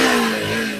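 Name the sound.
Bajaj Pulsar NS 125 motorcycle engine starting and revving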